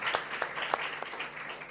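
Audience at a children's bravery award ceremony claps to welcome someone onto the stage, a faint, brief patter of applause with a few sharper claps standing out.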